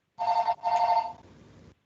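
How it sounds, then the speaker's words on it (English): A telephone bell rings in two loud, close trilling bursts, the second trailing off into a fading tail, heard alone without talk. "Oh, we got a phone call."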